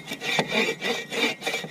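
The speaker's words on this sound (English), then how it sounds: "let the saw do the work, because it only saws on like the pullback" A Silky pull-stroke hand saw cuts through wood in a steady rhythm of about four close, rasping strokes, with no voices.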